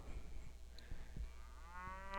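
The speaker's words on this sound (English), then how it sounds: "Get a moo." A cow moos in a low, drawn-out call, mid-distance and moderately loud, with faint background noise and no talk over it.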